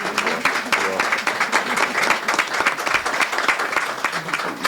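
Reporters and attendees at a police press conference applaud the officers with a burst of steady, close clapping, individual claps audible in a dense rhythm throughout.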